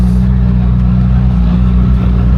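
A drag car powered by a Nissan GT-R R35 engine, fitted with a huge rear tire and a parachute, runs at a GT-R festival in the USA. Its engine rumbles loud, deep and steady throughout, close up with no talking.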